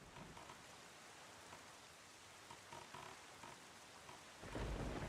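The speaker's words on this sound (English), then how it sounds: "It is night, it is raining." Steady rain and rumbling thunder fill a nighttime storm in a video game, with a louder thunder swell near the end.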